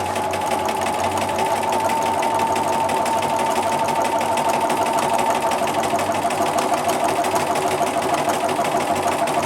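Quilting on a sewing machine across a checkerboard grid design: a steady, fast, continuous motor whir and needle chatter holds at an even level throughout, with no pauses.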